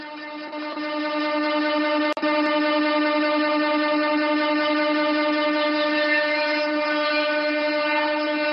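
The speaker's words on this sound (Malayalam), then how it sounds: "flag off the Palakkad-Pollachi train service" A locomotive horn or whistle sounds steadily and loudly for several seconds at Palakkad railway station as the Palakkad-Pollachi train is flagged off, with a brief sharp click partway through.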